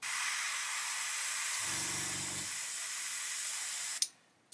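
An airbrush sprays paint onto a 1/48 Airfix Sea King helicopter model, giving a steady, close hiss that holds for about four seconds and then cuts off abruptly, with no talking.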